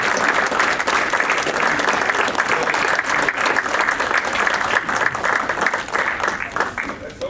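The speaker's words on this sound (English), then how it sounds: "let's have a big round of applause for Jason Smorol of the Syracuse Pets." A banquet audience at a Hot Stove baseball event gives sustained, loud applause for a Syracuse baseball executive, dense clapping with some crowd murmur underneath, easing slightly toward the end.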